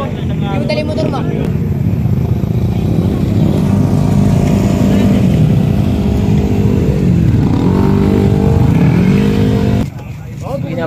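Loud Yamaha Aerox and NMAX scooter engines rev and roar continuously, pitch rising and falling with throttle, while people shout and talk over the noise; it drops off near the end.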